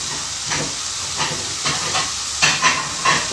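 Pasta cooking in a pan on a home stove gives a steady hiss and sizzle, with a few louder bursts of crackle and stirring scattered through, close and fairly loud.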